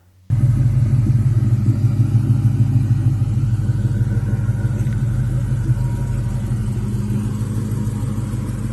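A 2003 Ford Mustang GT with a Coyote engine swap idles with a deep, loud, steady rumble up close, starting abruptly and holding an even throbbing note.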